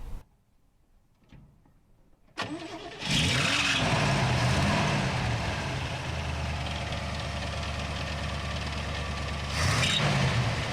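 A stock Chevrolet Bel Air V8 with a four-barrel carburetor and Edelbrock intake starts up and settles into a loud, steady rumbling idle close by, ending in a brief rev.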